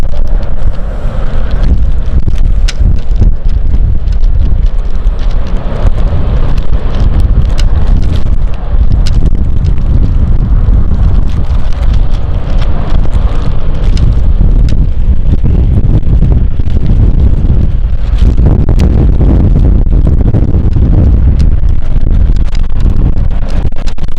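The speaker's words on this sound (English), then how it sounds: "Very windy day indeed" Strong gusting wind buffets the microphone at London City Airport, a loud, continuous roar with rumbling low-end surges throughout and no voices.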